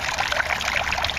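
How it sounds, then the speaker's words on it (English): Water trickles and pours steadily into an aquaponics fish tank, a continuous close splashing stream with no pauses and no voices. "But it also drains into the fish tank."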